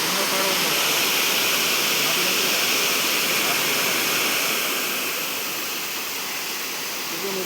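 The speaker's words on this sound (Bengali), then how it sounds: "এই সেই ঝর্ণা, কত উঁচু থেকে যে জল নামছে তার কোনো ঠিক নাই" A tall waterfall in Meghalaya roars as water pours from a great height, a dense steady rush filling the air at close range, easing slightly toward the end.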